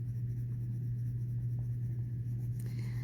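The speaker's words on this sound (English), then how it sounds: "Then I'm going to color over that with the yellow colored pencil, just switching up the directions of the coloring." Yellow colored pencil scratches steadily across paper in changing directions, a soft continuous close-up scribbling texture over a low background hum.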